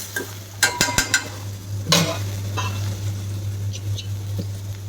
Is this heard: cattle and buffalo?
no